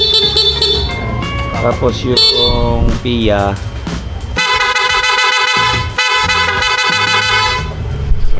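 Someone talks, then a loud, shrill aftermarket horn on a Honda Giorno scooter blares in two long blasts right up close.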